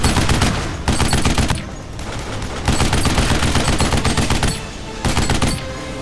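Sustained automatic gunfire in Duke Nukem Forever, loud rapid bursts broken by short pauses, close and dominant with no talk over it.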